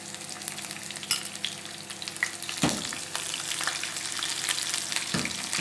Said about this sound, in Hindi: तो देखें गार्लिक के जवे बहुत अच्छे से गोल्डन ब्राउन हो गए हैं।